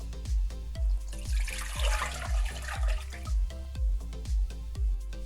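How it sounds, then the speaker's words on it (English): Four cups of water pour into a clean cooking pot for soup dumpling broth, a steady liquid splash running under regular low thuds. The sound is fairly quiet and close, with no talking over it. "we're going to add in 4 cups of water to a clean pot."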